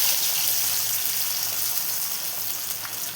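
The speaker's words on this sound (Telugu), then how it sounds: "నూనె వేడైన తర్వాత కొంచెంగా ఈ పేపర్ మీద ఇలా కొంచెం కొంచెంగా పెట్టుకొని ఇట్లా ఒత్తుకొని వేసుకోవాలి" Masala vada frying in hot oil over a medium flame, a steady close hiss and sizzle that holds constant with no talking.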